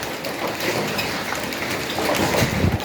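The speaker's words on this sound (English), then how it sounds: "The hail is chaotic, guys." Heavy hail and rain batter surfaces during a tornado in Tongaat, a dense, steady roar of impacts with scattered sharper hits, loud and continuous with no voices.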